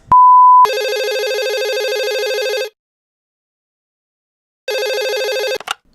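A telephone rings loudly for an incoming call after a brief steady tone, one long ring burst, a pause, then a second ring that cuts off abruptly.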